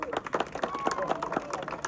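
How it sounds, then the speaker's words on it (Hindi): Applause from a crowd at a village welcome rally in Mukandgarhi, Sikandrabad, during a panchayat election event, rapid uneven claps in a dense burst, close and moderately loud with faint voices mixed in. "मैं चाहता हूँ उनके सम्मान में एक बार जोरदार तालियां"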